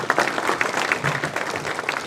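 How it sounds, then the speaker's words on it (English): Audience applause rings out at the NOFNEC 2015 opening ceremonies as the event sponsor from WSP Canada comes up, a dense, steady clapping throughout with scattered louder claps. "let's give him a round of applause"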